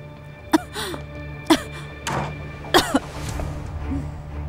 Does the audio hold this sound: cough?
yes